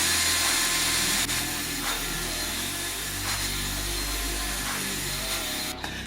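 An abrasive pad scrubs built-up crud off a cymbal, giving a steady, close, broadband rubbing hiss that runs unbroken with no talking.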